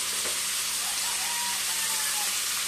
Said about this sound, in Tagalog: Ayan, adubuhin muna natin yung ating karne guys. Pulahin muna bago natin igisa itong ating mga ricado.